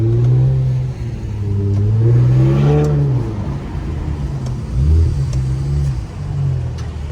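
A straight-piped Infiniti Q50 roars loud and close through a hard pull, its raw, droning exhaust note climbing and dipping through several rises in pitch before holding a steady heavy drone.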